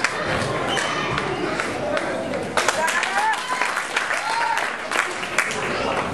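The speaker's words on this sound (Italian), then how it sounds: "E non sente l'applauso lui, naturalmente, applauso!" Audience applause at a 2010 variety show, a steady wash of clapping from a crowd that holds for several seconds with a few louder bursts, voices and cheers mixed into the noise.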